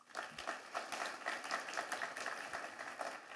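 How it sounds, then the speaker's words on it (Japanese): Shareholders at an annual general meeting clap together to approve a motion, a dense, even patter of many hands heard from a moderate distance, fairly quiet and continuous with no voices. "拍手をお願いいたします"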